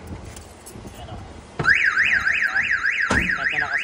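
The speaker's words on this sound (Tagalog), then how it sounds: "Kahit na naka-silent yan, pag pinilit buksan, mag-alarm pa rin yan." Car alarm set off when a locked car's door is forced open, giving a loud warbling electronic siren that starts abruptly partway through with a brief break, over faint background noise.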